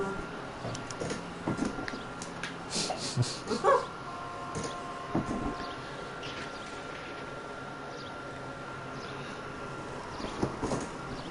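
A dog barks and yips in a few short bursts amid a low ambient hum, with a faint whimper.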